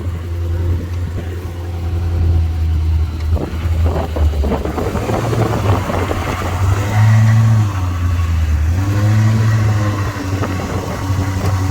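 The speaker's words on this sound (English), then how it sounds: "I'll hear the engine roar." A vintage car engine at a vintage vehicle event in Ladybank, Scotland, rumbles steadily, then revs up with a rising roar before settling back to a deep idle, loud and close to the microphone.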